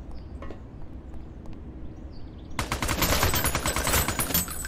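In the zombie shooter Zombie Girl Doomsday City, a quiet lead-in gives way to sustained rapid automatic gunfire, loud and close, continuing to the end.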